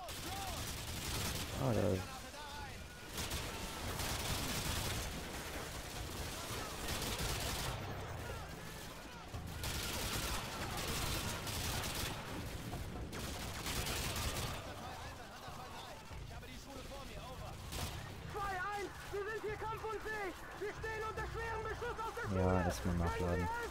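RPD machine gun fire in Call of Duty: Modern Warfare 2, bursts of rapid gunfire and explosions mixed with in-game sounds, with people talking over the fighting throughout.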